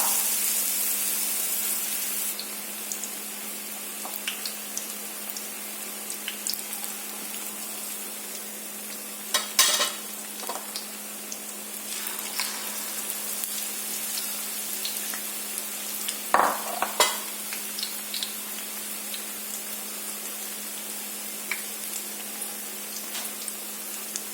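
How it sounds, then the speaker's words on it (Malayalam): Chilli bajji fritters frying in hot oil, a steady bright sizzle that runs throughout, with occasional sharp crackles and spits, close and fairly loud with no voices. "സൂപ്പറായിട്ടുള്ള ബജി നമുക്ക് പൊരിച്ചെടുക്കാം"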